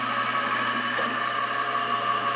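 Steady whirring hum of an electric motor driving the slow conveyor on a homemade drum sander, running continuously at a constant pitch with no breaks.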